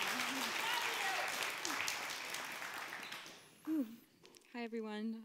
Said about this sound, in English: Let's everybody give her a round of applause.